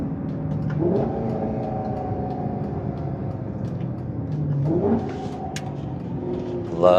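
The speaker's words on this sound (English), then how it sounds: "Love those downshifts." A 2012 Maserati GranTurismo MC engine blips twice on downshifts, each rev rising sharply over a steady, fairly loud cabin drone, with a brief extra surge at the very end.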